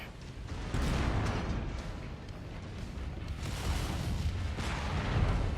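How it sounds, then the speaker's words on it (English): A deep, rumbling explosion swells up and lingers amid a sustained roar of blasts and distant booms in the game MechWarrior 5: Mercenaries. "Oh, that was a big explosion right in my face."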